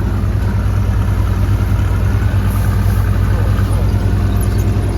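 A tractor engine runs steadily on a farm, a loud, continuous low rumble with no breaks, while people talk over it.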